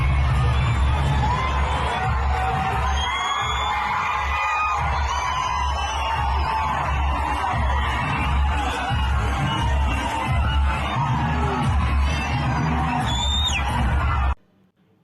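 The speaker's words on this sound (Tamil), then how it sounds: "அல்லு அர்ஜுனை பார்க்க காத்திருந்த ரசிகர்கள் உணர்ச்சி பெருக்கில் ஆரவாரம் செய்தனர்" A dense crowd of fans at an Andhra election campaign roadshow roars and whoops for actor Allu Arjun, loud sustained cheering, yelling and screaming close by that runs unbroken for about fourteen seconds before cutting off.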